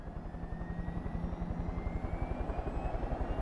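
Rhythmic chopping of helicopter rotor blades in the video game Far Cry 5 thumps steadily and evenly, with a faint whine above, continuing without pause.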